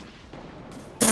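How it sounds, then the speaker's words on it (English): Grenade explosion in Destiny 2, a sudden loud blast bursting in at the very end after a faint, quiet lead-in of game ambience. "I threw my grenade all the way over, like, to another section of the map"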